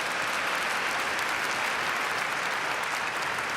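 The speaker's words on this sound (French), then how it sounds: "On peut un petit peu les applaudir." Church congregation at an Assumption Mass applauding volunteers, a steady wash of clapping from a large crowd heard from a distance, sustained and even throughout.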